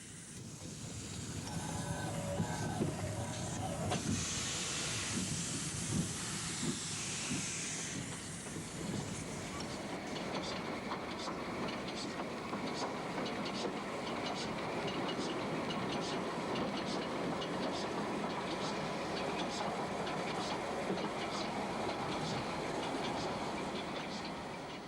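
A steam locomotive and train on the Corgo metre-gauge line near Vila Real, with the 2460 tank engine. There is a steady, loud hiss and rumble of steam and rolling stock, with an early burst of venting steam and faint rail clatter throughout.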